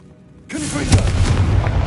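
A Confringo fire spell bursts in Hogwarts Legacy, a sudden loud booming blast that kicks in midway and rolls on as a dense, rumbling roar with crackling bursts until the end.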